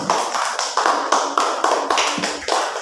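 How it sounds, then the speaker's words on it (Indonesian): Classroom group clapping together for a successful student team, a few unison rhythmic claps spaced evenly, close and loud. "Tepuk tangan dulu buat kelompok 2 yang telah berhasil"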